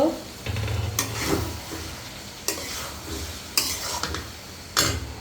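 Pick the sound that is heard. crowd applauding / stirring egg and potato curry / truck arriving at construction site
stirring egg and potato curry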